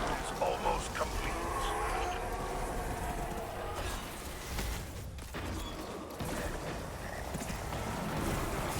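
Horse hooves clip-clop in a steady rhythm with a faint whinny, a game sound layered over a constant background bed, with voices talking quietly underneath.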